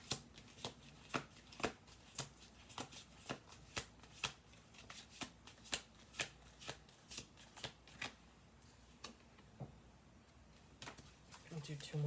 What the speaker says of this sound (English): I'll do two more shuffle throughs on this.